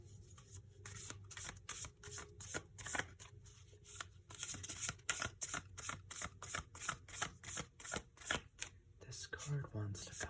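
Tarot cards are shuffled in rapid, crisp riffling bursts, soft and close, in a quiet setting with a low voice speaking intermittently.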